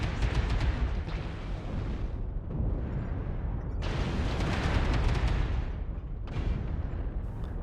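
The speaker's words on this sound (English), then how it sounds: "Artillery strike activated." Artillery strike explosions in the mech combat game MechWarrior Online, a rolling series of heavy booming blasts with deep rumble, overlapping and sustained, loud and without speech.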